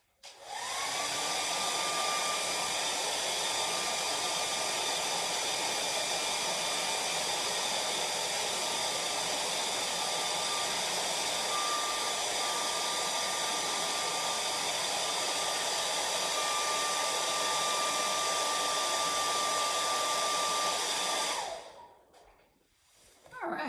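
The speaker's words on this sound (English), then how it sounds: "I'm going to pull my painting to the side and blow dry" A hair dryer blows steadily and close by for about twenty seconds while drying an acrylic painting, a loud, even rushing whoosh with a faint motor whine, then clicks off into quiet.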